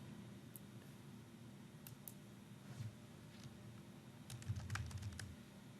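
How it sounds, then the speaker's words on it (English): Quiet, close typing on a computer keyboard, a few isolated keystrokes early and then a quick burst of taps near the end, over a soft room hum. "I'm going to type in"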